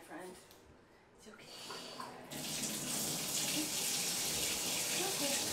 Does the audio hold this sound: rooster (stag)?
no